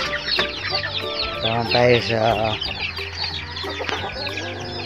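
Week-old Black Australorp chicks on a backyard farm cluck and chirp steadily at close range, with someone talking over them throughout.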